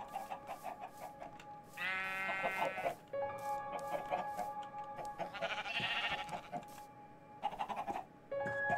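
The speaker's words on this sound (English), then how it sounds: "Hello, sheep." Sheep in the Minecraft video game give several bleats, some clear and loud and others fainter, over a steady bed of game music and ambience, with no talking.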